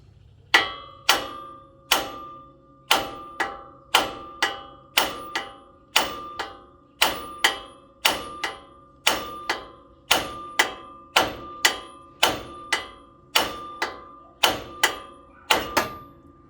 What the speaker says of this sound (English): you beat on that outside and it'll jar it loose